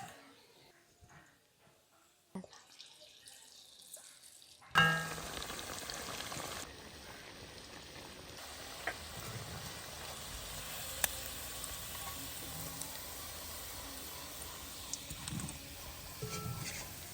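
Fish pieces frying in oil for Kerala-style fish pickle: after a few quiet seconds of handling, a loud, continuous crackling sizzle starts and holds steady to the end.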